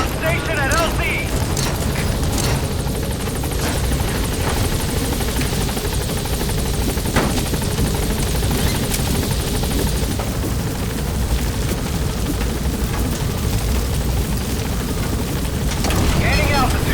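The B-Quad helicopter in Metal Gear Solid V arriving at a landing zone, a loud, continuous close rotor roar and engine drone throughout, with a few brief thumps and rising intensity near the end.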